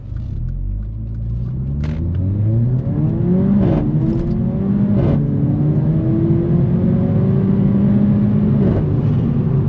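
A Mercedes-AMG sports car with a turbo pulls away hard from a stop in automatic sport mode, its engine note rising through several gears with brief shift breaks, loud and continuous from inside the car.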